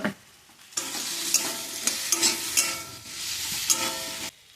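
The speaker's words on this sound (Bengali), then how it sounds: "মাছের ডিমগুলো দিয়ে এবার একটু কষিয়ে নেব।" Fish eggs fry in a pan with chilli and cumin powder, giving a loud, close sizzle that starts abruptly and is broken by repeated stirring scrapes before stopping suddenly.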